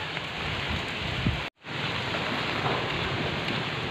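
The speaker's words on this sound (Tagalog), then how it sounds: "Lakas yung ulan." Heavy rain driven by wind during Typhoon Ulysses roars as a loud, dense, continuous wash, cut by one sudden brief silence before the downpour resumes just as strongly.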